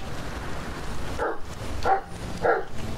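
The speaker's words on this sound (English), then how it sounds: "Doggo, good doggo." Dog in the video game The Medium barking three times in a steady rhythm, loud and close over a murky ambient game backdrop with no talking.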